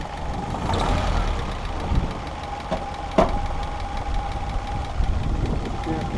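A 1964 Jeep CJ5 engine idling steadily with a rough, slightly uneven rumble from two weak cylinders, a few sharp knocks and clicks over the drone, and a person talking nearby.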